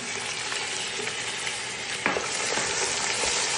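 Tomato stirred into a sizzling frying pan, a constant bright frying hiss with a few soft utensil taps and one sharper scrape midway.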